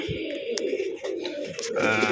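Karna pigeons, a crested breed kept in a pen for sale, coo in a steady low throaty rhythm at close range, with a slightly louder rolling coo near the end.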